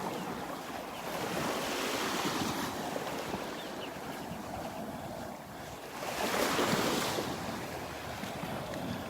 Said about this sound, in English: we got a little more wave action here along the shoreline